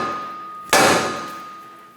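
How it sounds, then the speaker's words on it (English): A single sharp sledgehammer strike on a Chevrolet Sonic's front wheel hub to free it from the steering knuckle, a loud metallic clang that rings and fades over a faint background hum. "Now we're going to give it a tap right here with a sledge hammer"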